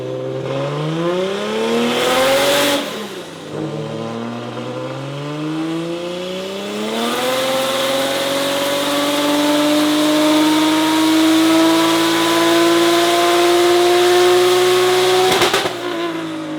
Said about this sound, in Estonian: Ja nüüd hakkab siis jõutõmb ja õigemini auto tuunimine, seadistamine ja siis juba jõutõmbenumbrid